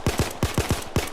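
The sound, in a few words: Glock 17 (Chimano 88) pistol firing in video game Payday 2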